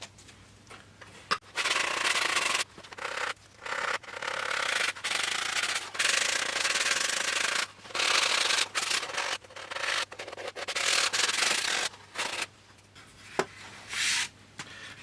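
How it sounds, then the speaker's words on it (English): Sandpaper held in the hand rubs along a balsa-style model aircraft fuselage for a Coyote build, giving close, steady scratchy strokes in long bursts separated by short pauses. "we just take a piece of sandpaper like this and use that rather than the big sanding block"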